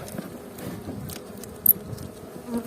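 A soft, steady buzz of many honeybees in a hive hums throughout, faint and continuous, with a few small clicks and taps near the end.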